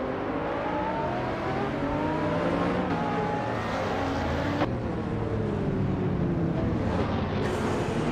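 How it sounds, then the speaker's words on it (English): Race car engines roar in a video game as a 2008 Porsche Spyder Evo LMP900 and rival prototypes launch from the start, a dense, loud, sustained drone of rising and shifting engine tones with no voices. "the race is underway at Majayon"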